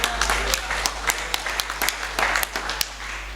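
A church congregation at a Sunday service applauds in a steady wash of many hands with sharper individual claps standing out, alongside a constant low hum.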